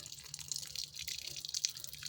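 Water running from a tap, a faint, brief hiss with light splashing and dripping, heard alone at low level.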